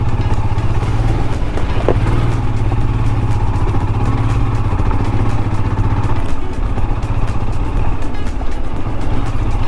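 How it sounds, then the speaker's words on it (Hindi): A motorbike built for off-roading is ridden over a rough, closed-off track at Kate's Point near Mahabaleshwar. Its engine drones loud and steady throughout, with clatter and rattles from the bumpy ground and no talk. "ये हमारी बाइक ऑफ रोडिंग के लिए ही बनी है।"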